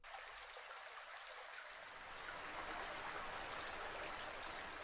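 Waterfalls and dripping water in the Minecraft SMP video game: a dense, continuous splashing rush that swells slightly heavier partway through and keeps going, with no voices.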